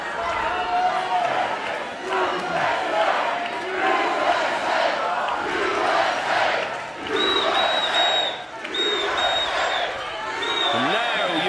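An American crowd at the Mosconi Cup pool event cheers and whoops in loud, sustained waves, with a commentator talking over the roar.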